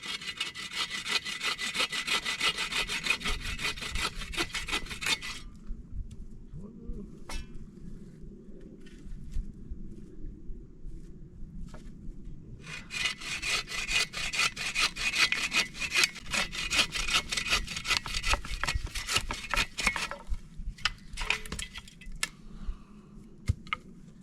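Wooden sticks cut with a hand saw: loud, steady rasping back-and-forth strokes close up, a pause of several seconds, then another long run of sawing strokes, with no talk.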